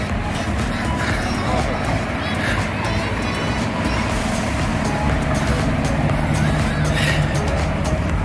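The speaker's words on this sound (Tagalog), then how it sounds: "yan, may traffic na dito" Road traffic passes along a seaside road near a resort in Seeb, Muscat, a loud, continuous rumble of engines and tyres, with people talking underneath.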